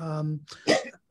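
A single sharp, breathy sneeze bursts out partway through a conversation, following a stretch of voiced speech and fairly close to the microphone.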